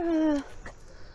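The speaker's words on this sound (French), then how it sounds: "bah, les chiens" A dog lets out one thin, high whimper at the start, close and clear, followed by faint rustling background at a campervan stop in Denmark.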